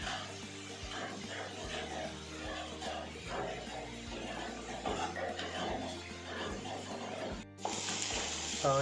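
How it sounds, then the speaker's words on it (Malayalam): Onions sautéing with salt in a pan for a Kerala-style prawn roast, giving a steady close sizzle with scattered stirring scrapes and a brief cut near the end, under a faint background voice. "ഉപ്പ് കൂടി ചേർത്ത് നല്ല രീതിയിൽ വഴറ്റിയെടുക്കാം"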